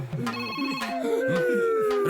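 A telephone rings with a bright, repeating electronic ringtone over a tense scene in an Indian action film, steady and fairly loud, mixed with background score and some voices.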